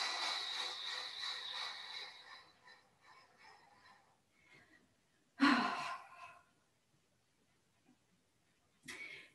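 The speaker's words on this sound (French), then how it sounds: "inspire, expire par la bouche et vraiment la sensation de vouloir vider" A deliberate, exaggerated exhale pushed out through the mouth during a Qi Gong breathing exercise for the kidneys and liver, one sharp breath burst followed by a quieter one, near and otherwise quiet.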